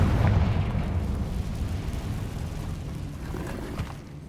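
In the Hogwarts Legacy video game, a Confringo fire spell lands with a dull, rumbling burst that rolls on as a steady low roar and slowly fades, with no voices over it.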